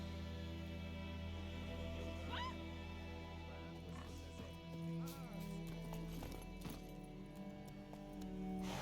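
Roach, a horse in The Witcher 3, moving under a steady musical drone, with faint clopping hooves and a brief whinny-like call partway through, quiet and partly buried by the score.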